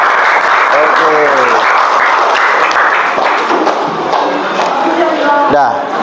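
Classroom full of students applauding a classmate, dense clapping with scattered thumps and excited voices calling out, loud and sustained throughout.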